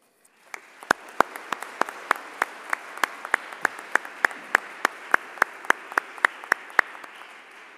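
An audience at an award ceremony lecture at the University of Coimbra breaks into applause, starting sharply and continuing as a dense, steady clatter of many hands, with a few louder claps standing out near the microphone.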